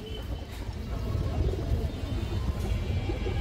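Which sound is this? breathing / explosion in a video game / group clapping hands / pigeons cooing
pigeons cooing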